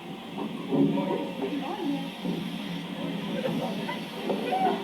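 An ALCO switcher locomotive rolls slowly onto a railway turntable at a heritage park, with faint hissing, creaks and low clanks heard from a distance under a speaking voice.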